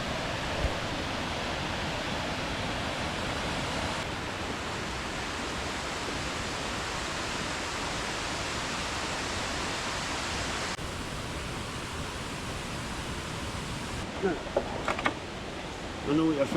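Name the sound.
waterfall in Alva Glen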